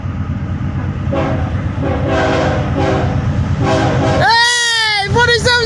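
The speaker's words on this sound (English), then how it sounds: "Dude, showing haircut 2 bits in the trackage rights." A BNSF locomotive, number 4762 leading a northbound freight, sounds its horn in a shave-and-a-haircut rhythm, loud and close, with short blasts followed by two longer tones over the rumble of the passing train.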